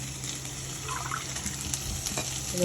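Water is poured into a pot for rice kanji, giving a steady close splashing and trickling wash that holds on without a break, with no talking.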